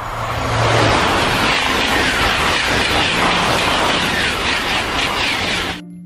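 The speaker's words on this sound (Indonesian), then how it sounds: "Kereta super cepat." A toy high-speed train runs with a loud, continuous rushing, rumbling whoosh for nearly six seconds before cutting off abruptly, with no voices over it.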